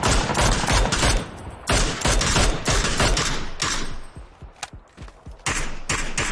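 Rifle gunfire in a shooter video game with a DMR, loud sharp shots in quick bursts and volleys, some fast repeated rattling, continuous over several seconds with brief pauses.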